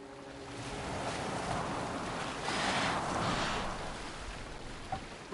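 A boat moving over water in Assassin's Creed Valhalla, with a steady wash of waves and wind that swells midway, carried on without voices.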